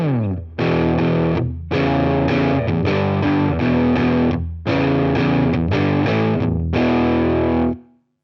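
Laney LC30-112 or LC15-110 tube guitar combo amp with the gain turned up, distorted electric guitar chords played in loud bursts separated by short pauses, close and with no talking.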